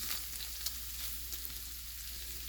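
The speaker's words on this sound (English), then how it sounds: "I'm just going to pour some flour in there. And then, so I'm going to use my little whisk it around just a little bit." Flour being whisked into hot fat in a pan for gravy, a steady close sizzle with light brushing strokes of a small whisk and no talking, all quite soft.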